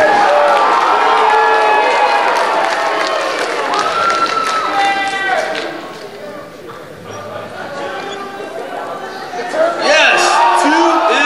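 Anime Expo 2003 masquerade audience cheers and chatters as a loud, dense crowd. People shout and talk over the crowd noise throughout, and the noise dips briefly before swelling again near the end.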